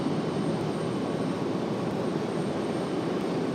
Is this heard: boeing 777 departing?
yes